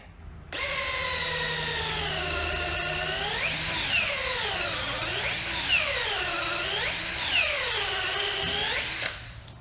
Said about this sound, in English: we'll hit them with the step bit to open them up a little bit